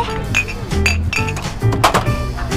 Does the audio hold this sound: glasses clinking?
yes